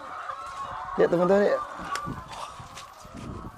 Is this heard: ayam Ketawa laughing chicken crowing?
yes